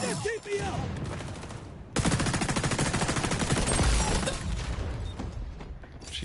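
Rapid automatic gunfire in the xDefiant shooter game, a loud dense burst of fast shots starting suddenly and running for several seconds before tapering off, with brief game effects around it.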